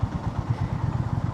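A motorcycle engine idling in a traffic jam, its low pulsing chug steady and fairly close over a brief moment.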